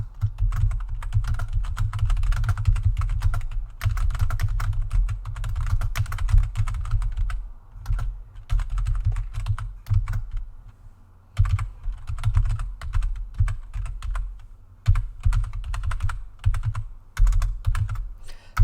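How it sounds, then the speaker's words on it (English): Keys clatter on a computer keyboard in close, busy bursts of typing, with brief pauses between flurries and a soft thumping undertone from the desk. "I'm just going to type something for somebody somewhere else."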